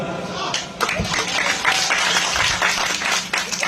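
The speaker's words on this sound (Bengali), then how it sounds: "জোরে হাততালি।" Audience at a Rath Yatra kirtan gathering clapping their hands, a steady dense patter of many hands filling the space, with voices mixed in.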